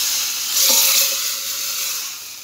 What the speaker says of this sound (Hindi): अब गैस करेंगे तेज और तड़का डाल देंगे जी हमारे सांभर के अंदर, ये डाल दिया जी तड़का।